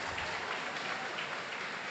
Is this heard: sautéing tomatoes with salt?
no